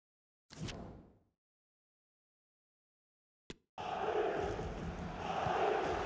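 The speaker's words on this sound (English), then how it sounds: "just listen to the crowd" A football stadium crowd in a football video game: after a short sound and a silent gap, a loud, sustained crowd roar swells in and holds to the end.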